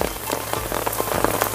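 Steady rain pattering on a surface during a rainy day in Shirur, with scattered individual drops audible over a continuous wash of rainfall.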